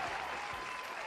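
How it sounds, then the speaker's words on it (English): Audience at the 3rd Street Market House breaks into steady applause, a dense, even wash of many hands clapping together, moderately distant and without any voices over it. "Oh, look at the audience here at the 3rd Street Market House clapping for you."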